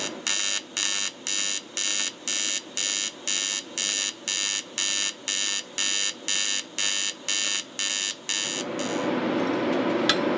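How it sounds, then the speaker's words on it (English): A welding arc set to a 100 hertz pulse in mix mode gives a loud, steady rhythmic buzz of about two bursts per second for roughly eight seconds, then shifts to a continuous hissing crackle. No one speaks. "we're going to start off at 100 hertz and kind of get a sound. It's going to kind of be a lower frequency, so you're going to have a lower sound"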